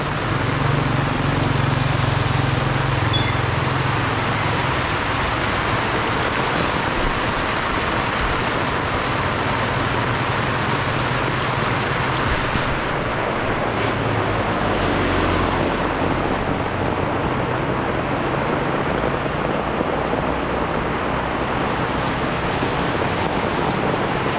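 Steady rain falls on a garden during the rainy season, a dense, continuous broadband hiss with no breaks, loud and close throughout.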